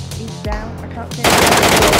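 Gunfire in PUBG Mobile starts as scattered shots and then turns into a loud, dense burst of rapid automatic fire in the second half, with a voice heard briefly early on.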